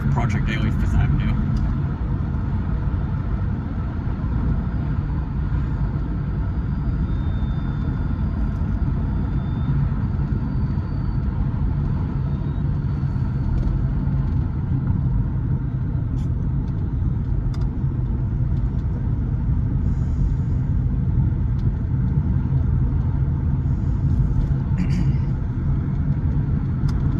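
A Chrysler Fifth Avenue cruises on the road, a steady loud low engine and road rumble heard from inside the cabin, constant throughout with no revving.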